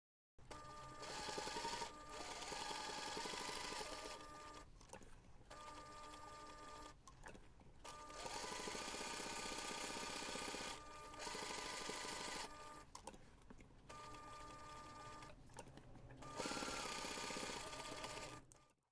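Sewing machine stitching around a fabric rectangle for a unisex toiletry pouch, running in steady loud bursts of a few seconds each, separated by brief pauses, with no talking.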